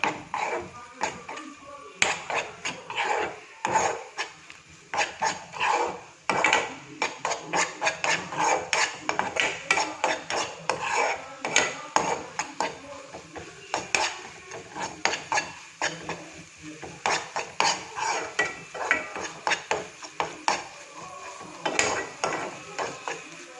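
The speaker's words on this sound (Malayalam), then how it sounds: "മീഡിയം ഫ്ലെയിം വെച്ചിട്ട് നന്നായിട്ടൊന്ന് ഇളക്കി കൊടുക്കുക" A spoon stirs macaroni in a pan over a medium flame. Dense, uneven clacks and taps of metal on the pan keep coming for over twenty seconds, close and fairly loud, with a soft frying hiss underneath.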